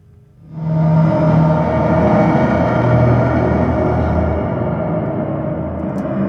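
A dark, dense synth pad made in Pigments swells in quickly and sustains as a thick, rumbling drone, loud and steady throughout.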